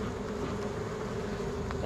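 Honey bees buzzing around an open hive during an August inspection, a steady close drone with a few individual bees passing nearby.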